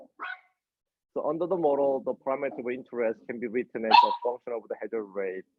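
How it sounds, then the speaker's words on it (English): A pet dog barks a few brief times at home, faint and partly masked while someone talks steadily through a clinical-trials statistics lecture. "sorry about my dog"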